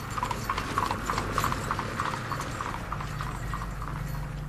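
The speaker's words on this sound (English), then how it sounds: "the king put Alyssa on his horse and galloped away to his lovely" Hooves of a horse clip-clop steadily on firm ground at a moderate pace, fairly faint and continuous with no voices.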